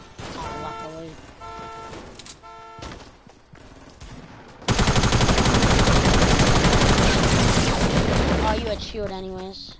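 Sustained SMG gunfire from a console battle royale shooter, a loud continuous burst of rapid shots lasting several seconds, preceded by shorter bursts with voices talking in between.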